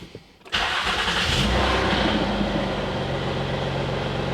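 A flood-damaged car engine cranks and catches, then settles into a steady, loud idle that rumbles on without a break.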